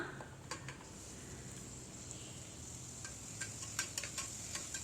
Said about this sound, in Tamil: கட் பண்ணி வச்சுருந்த தக்காளியை இது கூட சேர்த்துக்கலாம்